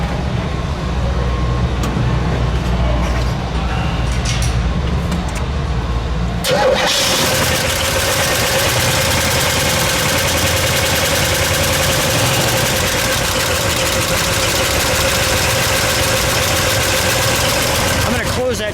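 A 1970 Oldsmobile 442 W-30 convertible with a 455 V8 cranks and fires, then settles into a loud, steady, rumbling idle close by, with faint talk and handling noises before the start.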